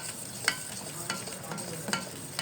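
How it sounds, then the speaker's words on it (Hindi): Cocoa powder, three spoonfuls, being stirred into a mixture in a pan, with soft scraping strokes and a few sharper spoon clicks against the metal over a steady low background. "इसको करेंगे मिक्स अच्छे तरीके से।"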